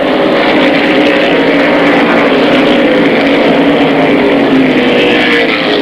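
Race cars, including a Thunderbird, roaring around a weekly-event oval at Airborne Raceway, a loud continuous engine drone from several cars at close range that holds steady throughout without any talk.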